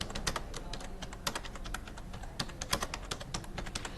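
Keys clatter on a computer keyboard as a slide title is typed into PowerPoint, an irregular run of close, crisp taps alone with no talk.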